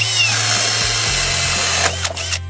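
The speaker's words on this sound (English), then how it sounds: "I'm gonna drill down from the attic where I'm gonna run my wire through the top plate" A power drill whines steadily and loud as it bores down from an attic through a wall's wooden top plate, its motor pitch dropping partway through before stopping with a few short bursts.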